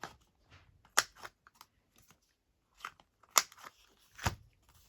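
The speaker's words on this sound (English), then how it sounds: "And I think we'll trim our corners." Scissors trimming rounded corners on collaged paper postcards, a few sharp crisp snips spaced apart with quiet paper handling between, close and fairly faint.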